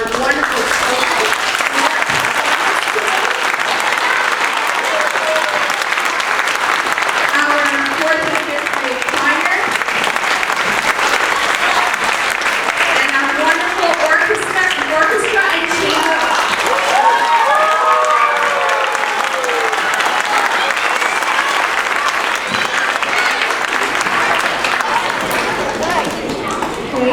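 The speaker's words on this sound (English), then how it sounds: "we have to give another round of applause for our wonderful" Sustained applause from an audience at an event in Cambridge, a dense wash of clapping lasting the whole stretch with crowd noise mixed in and talk underneath.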